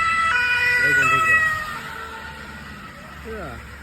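An ambulance siren wails along a road on a snowy morning, its rising and falling tone heard at moderate distance early on and fading, under steady traffic rumble while someone speaks Tamil nearby.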